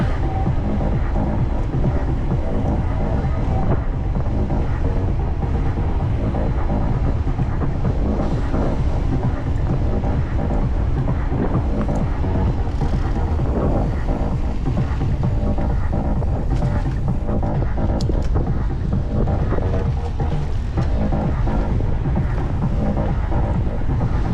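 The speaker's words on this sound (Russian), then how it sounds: "Капец, ветер." Strong wind roars into the microphone outdoors in Sochi in December, a loud continuous low rumble with surging gusts that never lets up, no voices heard above it.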